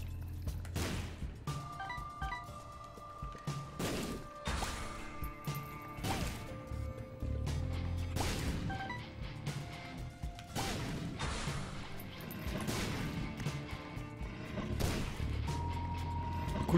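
Repeated loud crashing booms from The Binding of Isaac: Afterbirth, roughly one every two seconds, with electronic game tones and music between the blasts, no talking.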